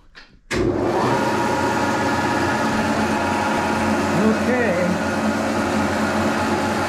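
Brown & Sharpe milling machine fitted with a Wohlhaupter boring and facing head switching on with a sudden start, then running as a loud, steady mechanical hum and whine. A voice is heard briefly over the machine noise.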